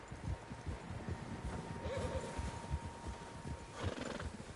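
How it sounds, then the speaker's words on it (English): Several horses in the video game Red Dead Redemption 2 clop along with a steady patter of hooves, and a whinny cuts through midway, moderately close under a wash of ambient noise. "Horses, quite a few of them."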